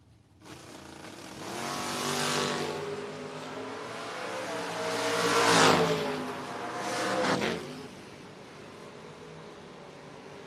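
A Mustang and a Camaro drag race car accelerate down a drag strip, engines revving in loud surges that rise and fall as the cars launch and pull away into the distance.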